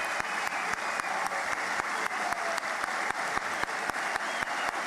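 An audience claps in steady applause, dense and continuous for several seconds, with a sharp regular tapping running through it.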